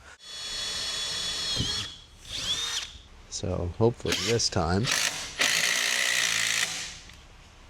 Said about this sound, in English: It's just all about having the right drill.